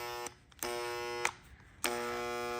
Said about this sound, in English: I'll let the magic smoke out of this poor little grinder.